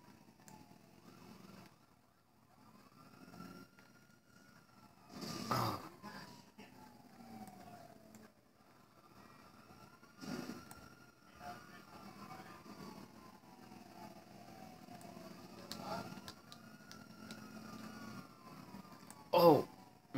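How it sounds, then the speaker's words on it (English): Wailing police sirens in GTA V rise and fall at a moderate distance, repeating in sweeping cycles, with occasional sharp thumps and bangs cutting through. "Well, at least we got sirens this time."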